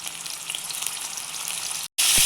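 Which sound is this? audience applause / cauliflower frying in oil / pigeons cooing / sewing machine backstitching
cauliflower frying in oil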